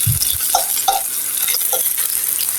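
Yardlong bean pakoras fry in hot oil with a steady, close crackling sizzle, and a few light stirring clinks come through on top. No one speaks.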